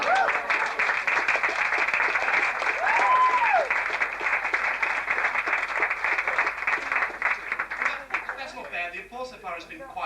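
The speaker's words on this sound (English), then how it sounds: "The applause so far has been quite good" Audience applause at a 1988 comedy show in the Prince Patrick Hotel, with dense, loud clapping throughout and voices rising near the end.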